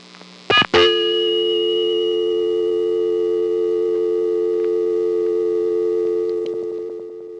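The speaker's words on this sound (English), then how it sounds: "The dial tone went on for 17 and a half seconds" Steady telephone dial tone from a 1970s–80s Montreal exchange permanent-signal recording, a sustained loud hum that runs unbroken after a short click and brief dropout at the start, then fades slightly toward the end.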